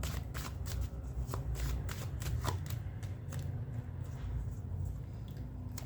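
A deck of tarot cards is shuffled by hand, a continuous run of quick riffling flutters and soft card slaps, close and fairly quiet, with no talking.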